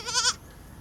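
A goat lets out a single short, wavering bleat up close, loud for about a third of a second before fading into quiet background on a farm.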